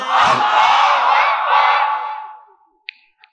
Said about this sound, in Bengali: এর চাইতে জোরে তাকবীর দিতে পারবেন না।